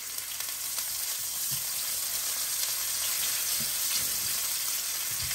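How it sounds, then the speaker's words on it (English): Sausage fries in a pan during a family breakfast cook-up, giving a steady, close, bright sizzle with small crackles and pops throughout and no talk. "And then I fry the sausage."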